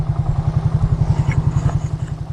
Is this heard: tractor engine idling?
yes